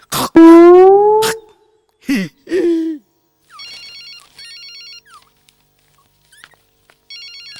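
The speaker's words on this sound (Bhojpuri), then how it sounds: "सर, संपत लाल के फोन।" A phone ringtone chirps in short repeated electronic bursts, preceded by loud dog-like yelps and whimpers close by.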